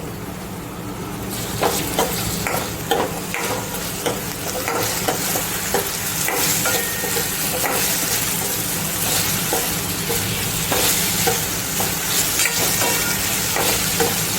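Papad and potato snack mixture sautéing and stirring in a pan, with a steady loud sizzle broken by repeated scraping strokes of a spatula throughout, and no voices.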